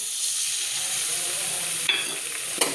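Ginger paste fries in hot oil for a Bengali malaikari, a loud, even, close sizzle that runs throughout, with two brief scrapes of a stirring spoon near the end and no talking.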